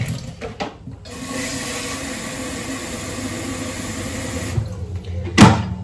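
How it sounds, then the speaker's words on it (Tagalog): Water runs steadily from a tap into a sink or kettle, a continuous rushing stream after a quiet start, ending with a short clatter near the close. "So, ayan, mag-init muna ako ng tubig."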